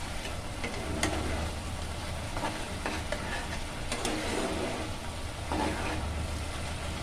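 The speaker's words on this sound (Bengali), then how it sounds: "এটাও ভালো করে কষানো প্রায় হয়ে এসেছে।" Bengali pabda fish curry being stirred and sautéed in a pan, a steady close sizzle with soft scraping strokes of the spoon throughout.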